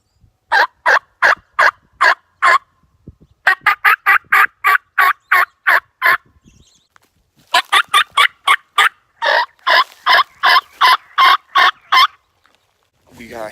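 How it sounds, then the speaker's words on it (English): A wild turkey hen calls outdoors during spring scouting, giving loud, rhythmic runs of clucking putts and yelps in several bursts separated by short pauses, close and clear. "We got a hen putting over here."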